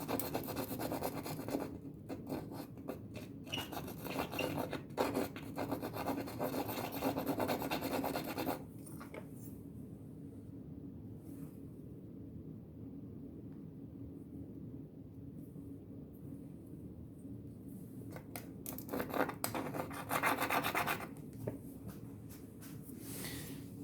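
A circular saw blade grinding against a pane of glass, a harsh broadband rasping scrape that runs loud for stretches, drops out to a quieter hum in the middle, then returns briefly near the end.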